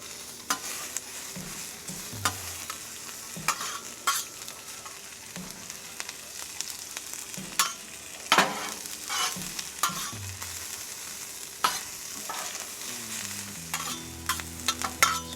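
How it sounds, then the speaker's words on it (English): Thinly sliced and quartered Spanish onions fry in beef tallow on a griddle with a steady sizzle, broken by intermittent scraping and clacking stirs from a spatula. "So I'm looking for these onions to get that kind of nice translucent fried look."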